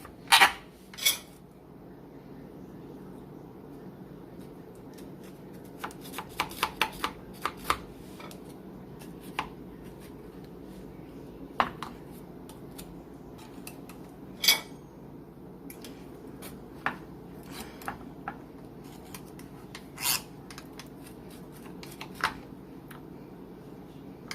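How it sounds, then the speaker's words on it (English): A knife cuts into strawberry lemonade sugar cookie bars on a sheet pan, with sparse sharp taps and scrapes of the blade against the pan spread over a quiet stretch, no talking. "Let me cut into this."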